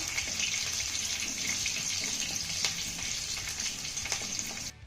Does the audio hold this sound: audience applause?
no